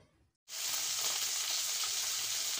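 Loud, steady sizzle of a fish head frying in a wok that starts abruptly after a short quiet moment and continues as a dense, hissing crackle close by.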